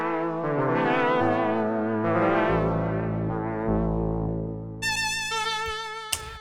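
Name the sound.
Arturia CZV software synth emulating Casio CZ phase distortion synth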